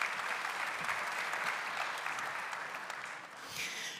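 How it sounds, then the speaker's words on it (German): Conference audience at an open innovation congress in Baden-Württemberg claps steadily, a dense, moderately distant wash of applause that slowly tapers, with no speech over it. "Einen herzlichen Applaus."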